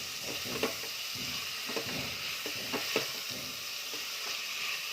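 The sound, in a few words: onion and tomato frying while stirred with ladle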